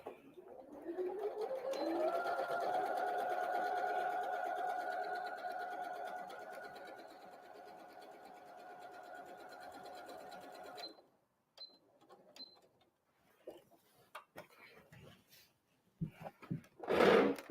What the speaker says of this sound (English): So I'll go ahead and sew this one.